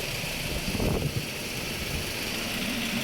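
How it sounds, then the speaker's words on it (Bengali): A Toyota HiAce van engine idles with a low, even rumble, steady and smooth, with the air conditioning running and no talking. "দেখেন ইঞ্জিন সাউন্ড কন্ডিশন একবারে স্মুথ"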